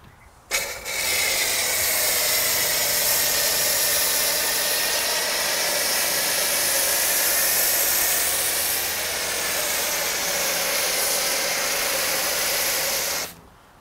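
A Griot's Garage Boss foam cannon with automated mixing sprays thick car-wash foam in a steady, loud, continuous hiss lasting about thirteen seconds, starting and stopping abruptly under a low pump hum.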